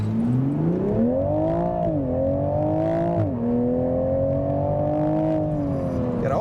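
A 2023 Toyota Supra Premium with its 3.0 engine accelerates hard, its engine drone climbing in pitch, dropping at two quick gear shifts, then pulling steadily higher again.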